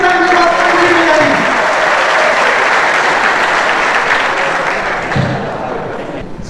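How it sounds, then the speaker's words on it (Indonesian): A crowd of police officers applauds loudly and continuously for several seconds at a speech, the clapping thinning slightly toward the end. "Sekali lagi tepuk tangan untuk Bapak Deddy Mulyadi."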